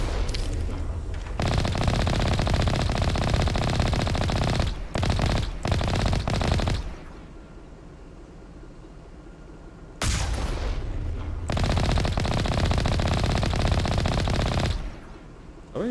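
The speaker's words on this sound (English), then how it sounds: "I think the bullets for the machine gun are hitting" Sustained bursts of machine gun fire from Mass Effect combat, loud and close, in long rattling volleys broken by short pauses and a quieter lull midway.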